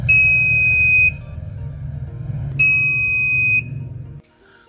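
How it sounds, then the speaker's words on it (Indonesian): An emergency warning buzzer in a monitoring panel box sounds two loud, steady high-pitched tones, each about a second long, separated by a short gap over a low background hum. "Pengujian notifikasi peringatan emergensi juga dilakukan pada modul buzzer yang terpasang di kotak panel."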